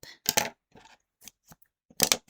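A few sharp metallic snips of scissors cutting bright yarn while fastening off a crocheted granny square, close by, separated by short pauses and quieter handling sounds.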